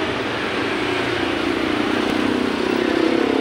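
Motorcycles idle and pass near a subdivision gate, a steady engine drone with a low rumble that swells slightly toward the end, with no one talking.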